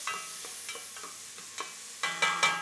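Onions sautéing in a pan for a quick marinara, a soft steady sizzle with rhythmic scraping stirs, and a few sharper spoon clacks toward the end.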